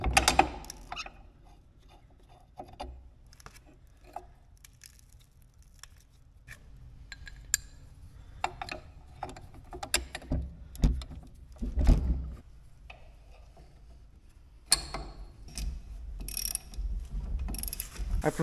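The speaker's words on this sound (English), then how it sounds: "I prefer to use a ratchet for this because you got to make sure this nut is seated up in there properly" Ratchet tightening the nuts that hold sharpened, flipped knives on a silo blower, heard as scattered clicking and mechanical clatter in a quiet space, with louder bursts of activity partway through and near the end.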